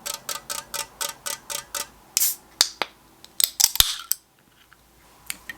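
A cold can of orange Poppi prebiotic soda is cracked open with a few sharp clicks and a pop, followed by a faint fizzing hiss, all close up with no talking.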